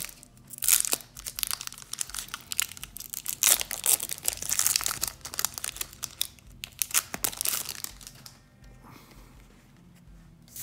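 Pokémon card booster pack wrappers crinkle and tear open in bursts of close, loud rustling and crackling over several seconds, fading to quieter handling of the cards near the end.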